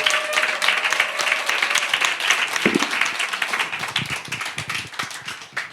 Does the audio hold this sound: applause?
yes